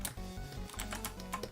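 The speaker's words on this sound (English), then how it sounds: "typing apparently." Rapid keystrokes tapped on a computer keyboard, a steady run of close, clicky presses with slight pauses, heard alone without talk.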